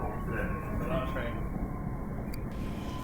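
A train rumbles steadily along in a continuous low roar, heard from on board, with a faint voice murmuring underneath.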